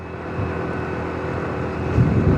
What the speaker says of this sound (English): Oh my god, that's too much wind.